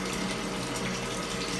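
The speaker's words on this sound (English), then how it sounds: "plugging it in, and you gotta make sure you hold the hose because it moves a little bit" An aquarium pump pushes water through a hose while a fish tank is cleaned, making a steady, close, even rushing and gurgling flow with no voices.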